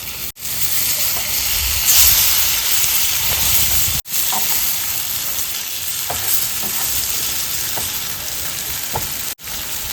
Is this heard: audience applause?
no